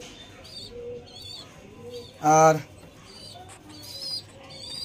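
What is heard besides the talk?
pigeons cooing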